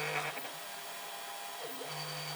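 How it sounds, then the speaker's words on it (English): A 3D printer's stepper motor runs with a steady vibrating whine and hum, a low tone that pauses briefly and dips in pitch before resuming, close and fairly quiet with no talking. "So obviously that vibration is actually coming from the stepper."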